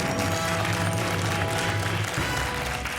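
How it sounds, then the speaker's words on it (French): Studio audience on a French quiz show applauding contestant Louis, a dense, loud wash of clapping that holds steady and eases slightly toward the end. "Il applaudit Louis."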